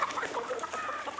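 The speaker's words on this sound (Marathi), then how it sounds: "चला रे कोंबड्या हो" Chickens in a village yard cluck in short, busy, overlapping bursts, heard close and at moderate volume with no talking.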